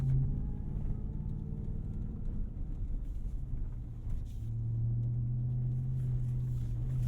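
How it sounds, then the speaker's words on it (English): A 2022 RAM TRX pickup truck drives off-road over bumps, its engine giving a steady low rumble with droning tones throughout and a thicker, louder hum building toward the end, with no voices. "So far of the bumps we've gone over, you can feel the suspension just trying to flatten out"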